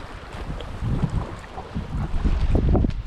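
A canoe paddles forward on a lake, soft water splashes and paddle strokes in an uneven rhythm under steady wind buffeting the microphone, fairly quiet.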